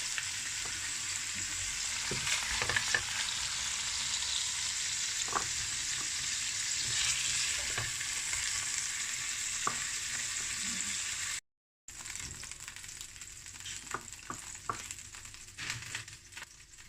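Beef brisket frying in a pan: a steady, close sizzle with occasional pops and stirring clinks, dropping out for a moment and then resuming just as lively, with no voices.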